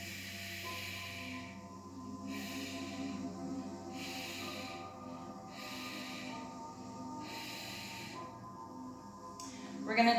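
Steady, rhythmic breaths during a Yogarobix yoga-aerobics workout, each a soft hissing exhale about every one and a half seconds, heard close over continuous background music.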